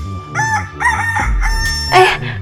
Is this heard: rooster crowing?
yes